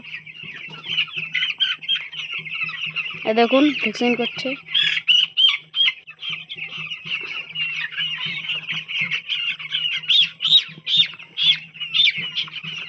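Chickens on a poultry farm cluck and squawk continuously at close range, with a burst of louder squawking in the middle, while someone talks over them at times.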